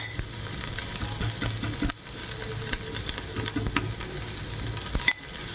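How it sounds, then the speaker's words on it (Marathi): Onions sizzle steadily in a hot kadhai with oil, with a spatula scraping and stirring now and then, close and fairly loud, no voices. "त्याच कढईमध्ये आपण कांदा परतून घेत आहोत।"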